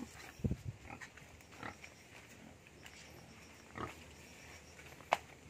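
Native pigs in their pen giving a few scattered, low grunts and short snorts, close by and fairly quiet, with pauses between calls.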